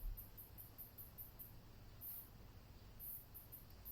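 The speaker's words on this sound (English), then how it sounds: "Can you hear the cicada?" A cicada's high, thin chirping repeats in quick rhythmic pulses, steady and faint in the background of a quiet room.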